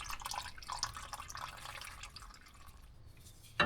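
Engine oil draining from a 2024 GMC Canyon during an oil change, a steady faint trickle with soft dripping throughout, ending in a brief louder knock.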